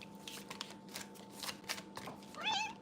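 A cat meows close to the microphone near the end, a short wavering cry heard after scattered shuffling and clicking noises indoors.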